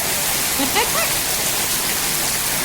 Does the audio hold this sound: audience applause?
no